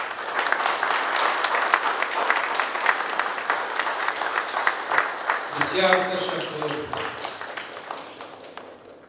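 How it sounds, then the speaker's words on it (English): Applause for Jeff and Suleiman at a conference welcome reception, a steady round of clapping from a room of people, with a brief tonal chime sounding partway through as the clapping gradually thins. "they deserve an enormous round of applause for their work"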